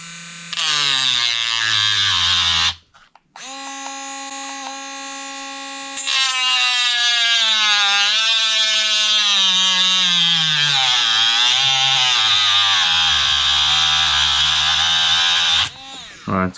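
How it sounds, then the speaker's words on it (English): A Dremel rotary tool cuts into a part from a Losi 8ight RC truggy, giving a loud, high-pitched motor whine that briefly cuts out, restarts, then drops and wavers in pitch as it bears down on the part before stopping. "Alright, it's cut a little bit into there"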